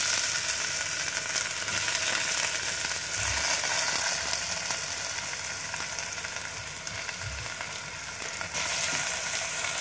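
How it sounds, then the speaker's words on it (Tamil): Onion, fennel seeds and a single whole green chili sautéing in oil in a pan, a steady close sizzle running throughout with occasional soft stirring scrapes and no voices. "வெங்காயம் லைட்டாக வதங்கட்டும்."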